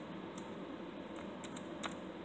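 Light, sporadic keystrokes on a computer keyboard while entering a value in Windows, a few soft clicks in small bursts over a steady background hiss.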